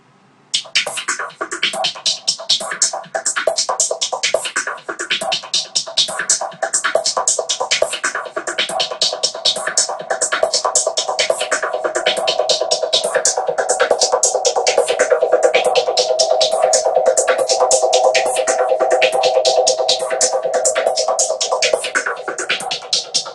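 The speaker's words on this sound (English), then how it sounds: "you're gonna hear a really analog, crazy like tape delay panning from one side to the other." A drum loop is run through an analog tape delay that pans from side to side, giving a dense, rapid stream of hits with a throbbing, smeared wash that builds steadily and stays loud for over twenty seconds.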